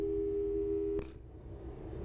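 A telephone busy signal in the video game Portal 2, a steady electronic tone sounding for about a second before cutting off, leaving low background hum.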